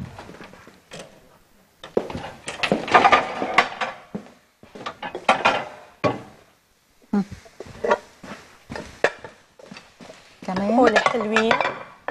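Cooked zucchini in yogurt being ladled into bowls and plates in a kitchen, with metal utensils clinking and scraping against dishes in irregular bursts separated by short pauses.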